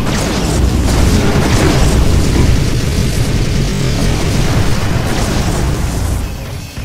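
Loud, dense burst of FQL M40 gunfire in the Terminator: Dawn of Fate video game at the Skynet NORAD base, a sustained roaring blast of overlapping shots that fades out near the end.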